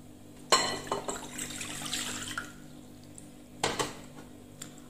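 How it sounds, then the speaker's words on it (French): Water is poured into a bowl for crêpe batter with a soft trickling splash, framed by sharp clinks of a utensil or container against dishes near the start and again later. There is a steady low hum underneath and no speech. "Alors là je vais mettre de l'eau."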